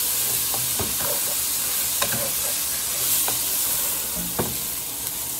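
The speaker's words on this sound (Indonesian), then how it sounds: "Dan kita aduk-aduk." Washed rice stirred in a hot pot for an Arab-style rice dish, with a steady sizzle and hiss running throughout and a few sharp scrapes and clicks of the spoon against the pot, close and with no talking.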